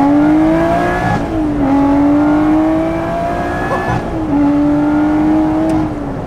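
Lotus Exige 430 Cup sports car driven hard, a loud close engine note climbing steadily through the revs, dropping sharply at each of several gear changes, with no talking.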